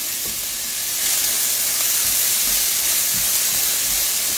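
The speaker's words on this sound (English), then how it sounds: "We're going to saute these just a few minutes till they get a little translucent." Chopped onions sautéing in a hot pan, a steady broadband sizzle and hiss that swells slightly after the first second and holds evenly, close and fairly loud with no talking.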